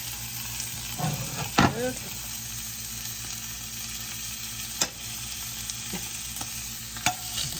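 Chicken breast sizzles steadily in a frying pan, a constant close frying hiss with a few scrapes and knocks of stirring, while people talk briefly over it.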